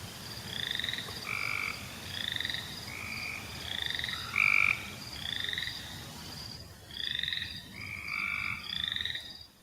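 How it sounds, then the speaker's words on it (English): Boreal chorus frogs give rising, comb-like trills in repeated bursts while Cope's gray tree frogs add a buzzier call, together forming a steady prairie marsh chorus over a low bed of cricket noise. "that boreal chorus frog sounds like you're running your thumb over the teeth of the comb, and the Cope's gray tree frog here is the one that sounds more buzzy"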